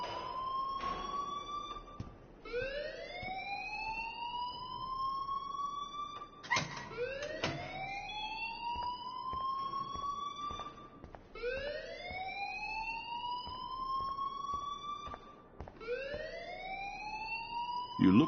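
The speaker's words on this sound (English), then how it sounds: "please turn off that alarm since that's your job" Video game alarm, a repeating electronic siren whose tone sweeps upward in cycles about every four seconds, steady and fairly loud with faint background noise.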